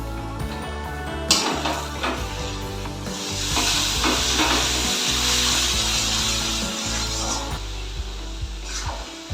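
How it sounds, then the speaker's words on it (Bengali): Boal fish curry simmers in a pan with splashes of water while a spatula scrapes and stirs it in a steady rhythm. A soft sizzle rises in the middle and then eases off, and no one speaks. "এবার এটাকে জল দিয়ে দিয়ে কষানো"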